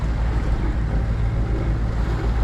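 A sailboat running fast on its engine through the water, a loud, steady low rumble blended with rushing water and wind buffeting the microphone, with no pauses.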